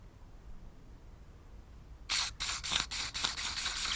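Carb cleaner sprayed straight down the centre of a lawnmower carburettor, a sudden loud hissing blast after two seconds of quiet, broken into several short bursts close by.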